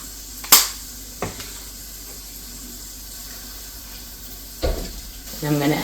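Shrimp sizzle in a frying pan as a steady low hiss, broken by a few sharp clinks and knocks of utensils against the pan, with louder handling toward the end.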